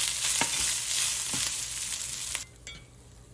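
Cooked rice being stirred into pulihora (tamarind rice) powder in a pan on a switched-off stove, with a loud hiss fading into a few scraping stirs near the close.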